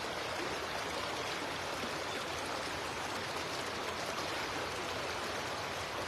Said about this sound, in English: As you listen to the river